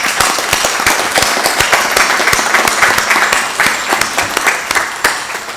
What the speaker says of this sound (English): round of applause for all the great job that they did.